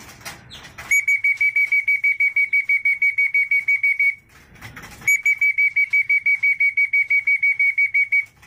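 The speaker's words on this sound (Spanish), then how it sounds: "Ya hacen más caso al momento del silbato." A training whistle for racing pigeons at a loft sounds in two long, loud, trilling blasts, each a rapid pulsing warble of several seconds with a short pause between them.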